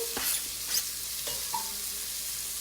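Onion dropped into melted, lightly browned butter with olive oil sizzles in a steady, hissing fry, with a few soft clicks and scrapes of stirring up close and no voices.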